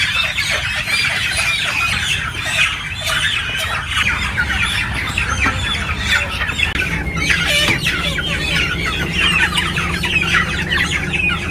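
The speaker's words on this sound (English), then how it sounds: "You can hear the birds chirping as we get the final few hundred cleaned out" Chickens on a large poultry farm during a cleanout, a dense, loud chorus of overlapping clucks, squawks and squeals running continuously, with a low mechanical rumble underneath.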